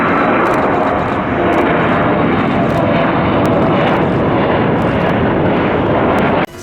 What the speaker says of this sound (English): those helicopters are very loud